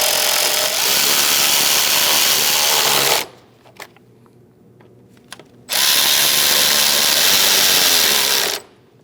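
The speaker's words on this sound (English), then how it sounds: "Let's tighten down these two bolts." A power tool whirs loudly twice while tightening bolts on the thermostat housing of a 2000-2006 Mini Cooper 1.6L four-cylinder, separated by a quiet gap with light clicks and clanks.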